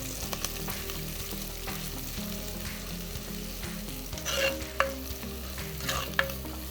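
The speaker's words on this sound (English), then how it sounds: "We're going to saute this for 5 minutes" Ginger, garlic, green chilies and shallots sauteing in a pan for a Kerala-style dry roast: steady close sizzling with occasional stirring scrapes and clinks, no voices.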